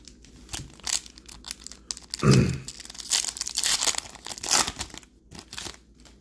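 A foil baseball card pack wrapper is torn open close up, crinkling and rustling for several seconds with one sharp rip in the middle, loud and bursty against a quiet background.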